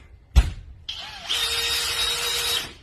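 A power drill fitted with a Fenrir locking screw holder drives a screw: a sharp knock, then a close, high whirring drill run lasting about two seconds before stopping.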